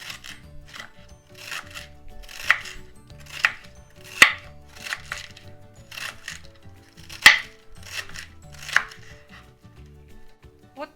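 Cabbage is cut with a knife in a steady series of crisp, crunchy strokes, a dozen or more, close by, with some louder cuts against the board and no voices.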